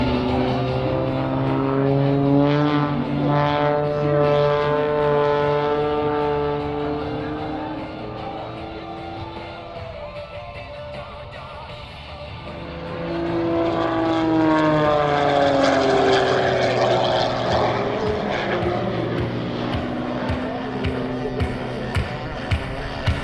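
A 360-horsepower MXS-RH aerobatic propeller plane flies at a naval air station airshow in Key West, its loud engine drone rising and falling in pitch as it passes and maneuvers, fading briefly in the middle before swelling again.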